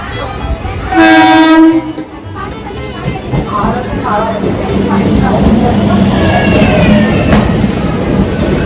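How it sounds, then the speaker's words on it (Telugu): A loud train horn sounds close by as an MMTS suburban train arrives at a Hyderabad platform, followed by the heavy, continuous rumble of the train rolling along the tracks. "వస్తుంది మన ట్రైన్ ప్లాట్ఫామ్ పైకి"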